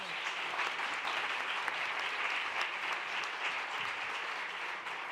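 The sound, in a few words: applause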